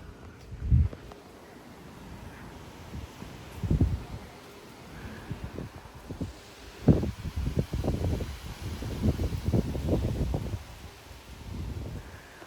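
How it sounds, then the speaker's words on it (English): Strong 30 mph wind gusts swish through live oak trees in Frisco, Texas, rising in surges of rustling leaves and blustery microphone rumble that grow denser and more frequent toward the end. "I can literally hear those live oaks swishing. That's how crazy the wind is."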